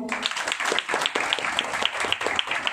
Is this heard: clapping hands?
yes